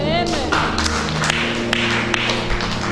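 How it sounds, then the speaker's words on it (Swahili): A church congregation claps for Jesus in a busy, overlapping burst of applause, with talk continuing over it. "Pigia Yesu makofi"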